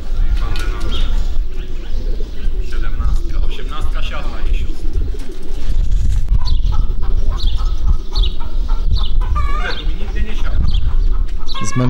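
Racing pigeons landing at a loft after a hard 340 km race from Torgau, with bird calls and cooing scattered through steady background noise and ongoing talk throughout.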